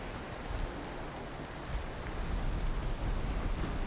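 Rain in the video game Valheim falls as a steady, soft hiss with a low rumbling undertone, continuous and fairly faint, with no voices.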